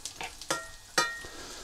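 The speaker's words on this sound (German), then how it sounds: "Die soll ich jetzt hier anbraten mit ein bisschen Öl." Mini Maultaschen fry in a little oil in a pan, close up, with crackling sizzle bursts and a few stirring scrapes across about two seconds, no voices.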